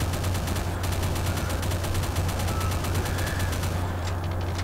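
Gunfire in the video game Final Doom: TNT, a fast continuous stream of shots hammering evenly for several seconds, loud and alone with no talk over it.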